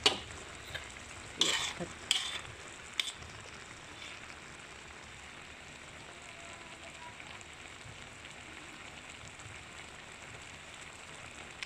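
Bamboo shoots simmering in coconut milk in a pan, a soft steady bubbling hiss throughout with a few sharp utensil scrapes and clinks early on, quiet and close, no voices.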